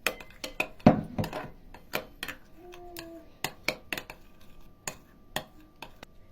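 A utensil stirs a soy sauce mixture in a dish. It makes light, sharp clinks and taps against the dish at an irregular pace, quiet and close, with a few faint tonal squeaks in between.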